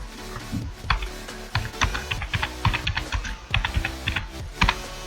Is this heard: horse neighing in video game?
no